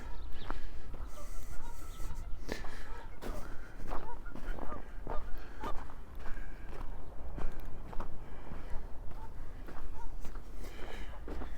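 A goose honks repeatedly in the open on a snowy day by Wascana Lake in Regina, mid-distance, over steady footsteps on a snowy sidewalk and outdoor background noise.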